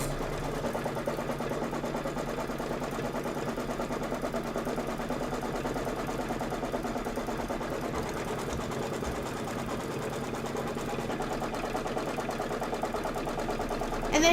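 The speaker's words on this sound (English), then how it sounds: "hit start and let it do the quilting stitches for you" An embroidery sewing machine stitching quilting stitches on quilt blocks, a fast, even, mechanical chatter that holds steady and close for the whole stretch, with no talking.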